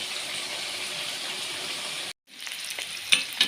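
Pork frying in a hot pan, a loud steady sizzle and hiss that cuts off briefly, then resumes with scattered pops and crackles.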